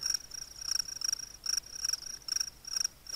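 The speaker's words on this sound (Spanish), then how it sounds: "Ya tengo el grillo metido en la oreja." A cricket chirps in steady repeated bursts in the survival game The Forest, about seven sharp pulses at an even rhythm, fairly close and alone against quiet ambience.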